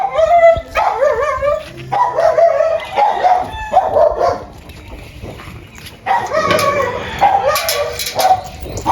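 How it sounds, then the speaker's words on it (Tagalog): A dog barks and yips repeatedly in close, excited bursts, with short pauses between volleys. "Ang aking aso."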